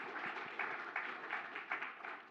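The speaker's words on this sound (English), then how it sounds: "Another applause." An audience at a cryptocurrency foundation panel applauds, a soft, distant, even patter of many hands sustained for a couple of seconds, faint and unaccompanied by talk.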